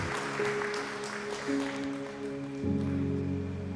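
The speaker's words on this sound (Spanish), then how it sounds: "Vamos a dar un fuerte aplauso a estos hombres que hoy." A church congregation applauds during a Sunday service, a steady, fairly even wash of clapping that carries through the whole stretch with sustained musical tones running underneath.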